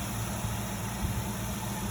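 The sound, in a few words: SN95 Cobra car engine idling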